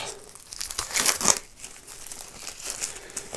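A plastic-wrapped pack of 105 square 80 by 80 game cards is torn open, making steady close crinkling and crackling with a louder ripping burst partway through.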